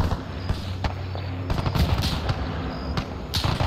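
Shotgun fire in the military shooter Arma 3 during a beach assault, a run of sharp, separate reports at irregular intervals over steady background noise.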